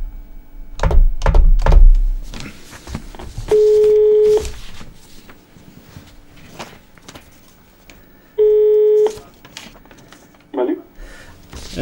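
A telephone call being placed, with two long steady ringing tones about five seconds apart. Thumps and knocks come before them, and voices talk over the line.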